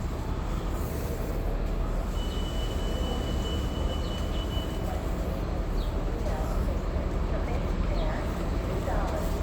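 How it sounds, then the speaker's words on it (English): A Washington Metro train arrives at New Carrollton station, a loud, continuous rumble and rail roar that stays level for the whole stretch, with faint squeals above it. "There's another train coming. It's another Washington Metro."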